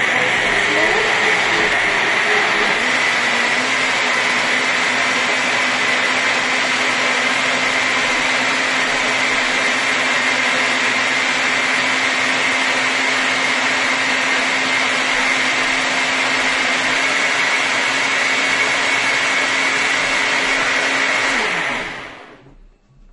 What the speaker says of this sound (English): let's go ahead and give this a nice blend